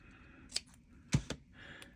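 Scissors snip through paper in a couple of short, crisp cuts, close and quiet, with small clicks of the blades between them.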